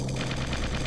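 Rapid gunfire in the video game Original War, a dense burst of overlapping shots that fills the whole moment at close, steady loudness.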